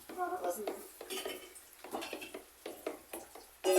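Homemade dishwashing liquid soap mixture stirred in a container with a thickener, a series of clinking, scraping strokes of a utensil against the vessel in an uneven rhythm, close and moderately loud.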